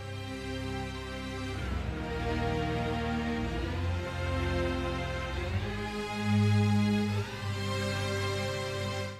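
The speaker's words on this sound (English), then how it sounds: "we have these Oriental portamento chords being played over it" Oriental-style string chords with portamento glides played over sustained orchestral string chords, a full, continuous layered synthesized arrangement with sliding pitch shifts.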